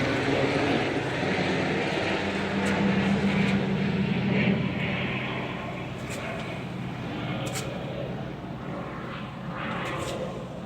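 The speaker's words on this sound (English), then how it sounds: "Helicopter passing over through." Steady engine drone of a helicopter overhead, loud and continuous, slowly easing off as it passes, with faint outdoor sounds in the background.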